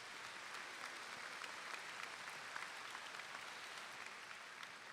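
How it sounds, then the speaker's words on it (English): Steady, distant applause from a crowd at a 2021 high school graduation ceremony, a soft continuous patter of clapping without speech. "give her a big round of applause"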